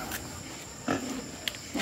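Pigs being hauled to a new pen in late afternoon give a few short, scattered grunts and snorts at moderate distance over a faint, steady background hum, with no clear talking.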